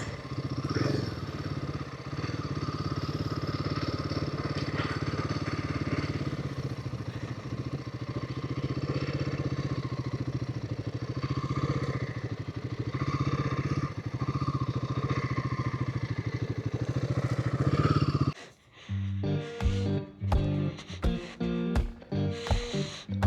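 A Royal Enfield Himalayan 450 motorcycle engine drones steadily and loudly while riding for most of the stretch, then cuts out abruptly near the end, leaving a few clattering, uneven noises.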